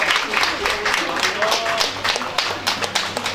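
Audience applause at a prize distribution ceremony: a steady wash of many hands clapping, moderately loud and sustained throughout, with a voice or two faintly mixed in.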